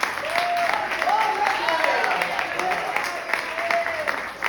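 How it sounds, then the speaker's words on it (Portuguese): A church congregation at a prophetic worship service applauds steadily and densely, a continuous wash of many hands with a few voices calling out above it. "Aplaude bem forte."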